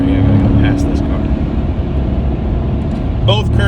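Road and engine rumble inside a car while it overtakes another vehicle, a steady low drone under someone talking.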